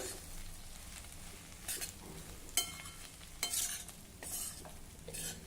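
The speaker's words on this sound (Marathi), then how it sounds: "कोथिंबीर घालूया आणि हे मिक्स करू" Crushed fresh-roasted peanuts and coriander are stirred into okra in a pan, with soft scraping strokes and occasional sharper utensil clinks over a faint sizzle.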